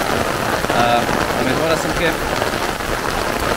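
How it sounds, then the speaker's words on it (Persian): Very heavy rain in Pakistan pours steadily as a dense, loud hiss that fills the whole clip, with a voice speaking over it. "باران های پاکستان است بسیار شدید تیز."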